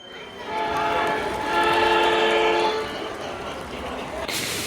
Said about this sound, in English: The toothbrush train is arriving at Toothpaste Station.